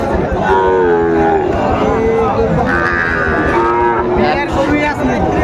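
A Sahiwal calf lows loudly and close at a busy cattle market in Cumilla, a few drawn-out moos over a noisy crowd and voices in the background.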